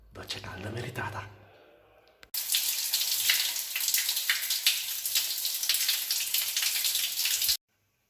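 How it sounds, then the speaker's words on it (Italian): A hot shower runs with a steady, close hiss of spraying water for about five seconds, then cuts off abruptly. Brief talk comes before it. "doccia calda meritata"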